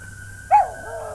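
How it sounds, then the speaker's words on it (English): A dog gives a single short whimpering yelp over a faint steady background hum, brief and fairly close. "Somebody requested that we not edit out the dogs, so there you go, guys."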